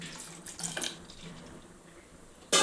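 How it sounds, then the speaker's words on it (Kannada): Water pours into cooked mashed eggplant for a Karnataka-style gojju, a short splashing gush followed by a softer trickle and a sudden bright splash at the end, close and alone. "ಇವಾಗ ಇನ್ನೊಂಚೂರು ನೀರು ಹಾಕೊತಾ ಇದ್ದೀನಿ"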